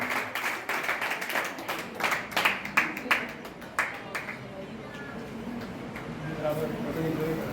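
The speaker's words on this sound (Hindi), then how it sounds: "जोरदार तालियों के साथ महरीन का स्वागत सम्मान।" Audience clapping at a school award ceremony for exam results, sharp individual claps in an uneven rhythm that thin out after a few seconds while talk and crowd murmur continue.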